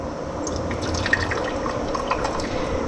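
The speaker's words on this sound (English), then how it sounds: "Back to the ladling." Homemade peach jelly is ladled into glass jars in a kitchen, giving a steady, close stream of soft liquid pouring and dripping throughout, with a few brief clinks and no talking.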